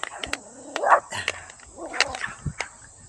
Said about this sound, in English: He's barking at us too.